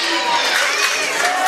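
Crowd at a boys' high school basketball game between Wilmington and Chillicothe screaming and cheering loudly, a dense, sustained roar that fills the gym.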